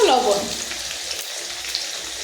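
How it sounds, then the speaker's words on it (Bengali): Potato pieces frying in oil: a dense, even hiss of sizzling holds steady throughout, with a voice speaking briefly over it at the very start. "লবণ দিয়ে কিন্তু আবারও ভালোভাবে আলুটা লাল লাল করে ভেজে তুলে নেব"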